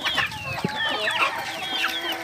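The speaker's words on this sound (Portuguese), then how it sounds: "mostrar minhas galinhas se alimentando" Chickens at a farm in Penedo, Alagoas, cluck and chatter in overlapping bursts while feeding, fairly close and moderately loud, with no talk.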